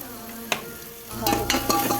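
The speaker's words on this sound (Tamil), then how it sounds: "நல்லா வெங்காயம் வதக்கிடுவேன். வெங்காயம் வந்து வதங்கிட்டே இருக்குது." Chopped onions sizzle in a hot pan while being stirred, with occasional scrapes and clinks of a utensil against the metal, close by.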